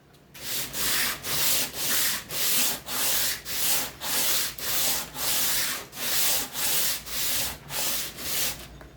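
A guitar fretboard is shaped to its radius with 80 grit sandpaper in long, even back-and-forth strokes, about fifteen rhythmic rasping passes, close up and loud with no talking.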